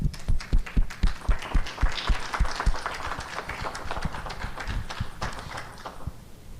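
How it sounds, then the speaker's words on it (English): A gala audience at a Phi Theta Kappa regional convention claps loudly, opening with sharp, close, evenly spaced claps that blend into a sustained round of applause and gradually taper off. "One more round of applause."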